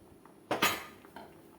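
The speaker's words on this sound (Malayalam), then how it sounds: "ഇനി നമുക്കിത് അടുപ്പിൽ നിന്ന് മാറ്റി താഴേക്ക് വെച്ച് കൊടുക്കാം" A cooking pot is lifted off a stove and set down, giving one clear metallic clank followed by a softer second knock of metal on metal.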